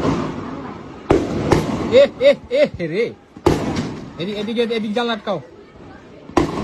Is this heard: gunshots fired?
yes